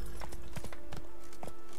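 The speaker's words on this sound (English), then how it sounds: "Oh my god, look at that horse. He's so regal." Horse hooves clip-clop in The Witcher 3, a steady run of sharp, close hoofbeats on hard ground, about eight strikes in under two seconds, heard alone.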